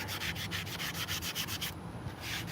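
Light hand sanding on a ball gives quick rhythmic rasping strokes, about ten even back-and-forth scrubs close up, pausing briefly before resuming.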